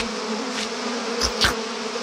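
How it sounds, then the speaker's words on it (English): A steady, close buzzing of bees drones continuously, with a couple of louder passes swelling briefly as insects fly near. "Bees?"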